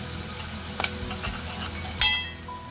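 Onions fry with salt in a pan, a steady close sizzle with occasional stirring scrapes and a sharper clatter near the end, without any speech.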